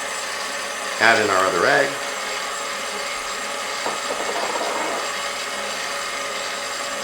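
An electric mixer steadily whirs through keto chocolate chip cookie batter with eggs, a constant close hum as a person talks over it.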